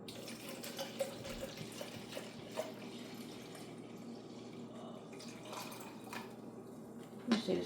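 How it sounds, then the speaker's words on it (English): Water splashes from a tap into a container in a home kitchen, a soft, steady running flow with small drips and splashes, faint and close, with a brief louder splash near the end. "so put some water in there"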